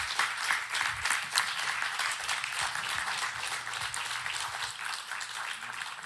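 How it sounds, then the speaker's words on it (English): Audience applause at the close of a podcast taping as everyone stands, a steady dense patter of many hands clapping throughout, moderately loud with no voices over it. "give a round of applause"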